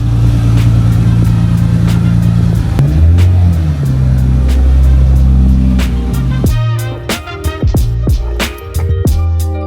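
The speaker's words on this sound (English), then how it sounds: "let's move the car back and forth again just to relax the suspension a bit" A car rolls back and forth to settle its freshly adjusted suspension, giving low engine rumble and shifting tones, then a run of sharp clicks and knocks as it moves, fairly loud and close.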